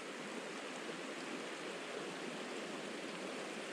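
Water flows steadily over rocks in Pebble Creek, Yellowstone, a dense, even rush of a mountain stream close by, continuous with no pauses and no voices.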